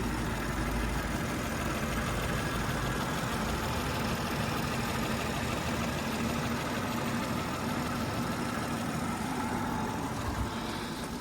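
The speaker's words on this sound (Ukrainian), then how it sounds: "Починаємо вам з мотору, тому що він повністю справний." A 2019 BMW X5 engine in working order idles steadily, a smooth, even, moderately loud hum heard close up with no talking.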